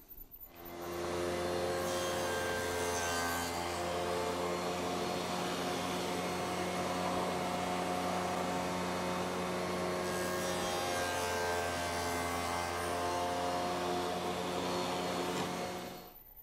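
A table saw with a miter gauge fence cuts a series of dados in wood, a loud steady motor hum with dense harmonic drone that holds for about fifteen seconds, its tone dipping slightly midway, with no voices.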